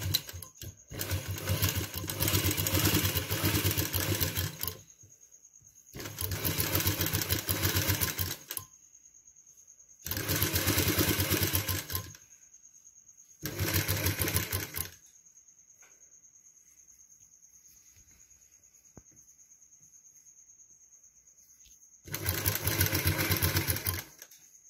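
An electric sewing machine stitches the inner final seam of a one-shoulder dress in five bursts of rapid, steady whirring, each a few seconds long, separated by quiet pauses, close and loud with no talk.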